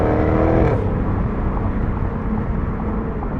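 A supercharged 2021 Jaguar F-Type R engine accelerating: a loud, steady broadband roar that rises at the start, then holds as a dense, continuous drone with no pauses.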